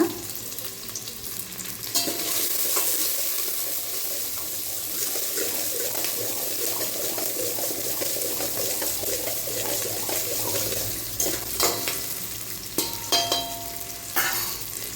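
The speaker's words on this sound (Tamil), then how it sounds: "நெக்ஸ்ட்டு நம்ம நான் சின்ன வெங்காயமும் தக்காளியும் வதக்கிக்கலாம்" Shallots and tomatoes sautéing in a little sesame oil for a Thanjavur-style fish curry, with a steady close sizzle, stirring scrapes and a brief burst of running tap water near the end.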